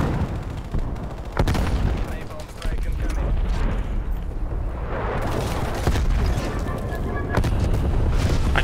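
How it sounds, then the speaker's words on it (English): Heavy airstrike explosions and booming gunfire in the Call of Duty: Black Ops Cold War video game, loud and near, with blasts rumbling and rolling over one another almost continuously, while a voice talks at times. "Keep getting killed by fucking airstrikes"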